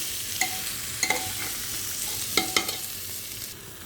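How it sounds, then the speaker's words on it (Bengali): A dal and rice mixture being fried for vegetable khichuri sizzles quietly while a spoon scrapes and clinks against the pan in several sharp, irregular strokes. "তো এটাকে ভালো করে একটু ভাজা করে নিতে হবে"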